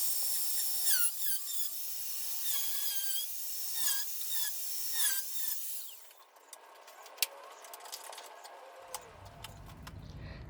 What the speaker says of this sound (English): That's what I have marked out to cut out here on the top of the roof. So I'll get that zipped out right now.